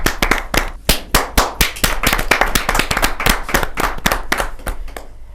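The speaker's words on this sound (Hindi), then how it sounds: "क्या जोरदार ताली के साथ" Loud, close clapping from the audience at a Hindi poetry gathering (kavi sammelan), a dense rapid series of sharp hand claps that holds steady for several seconds before trailing off.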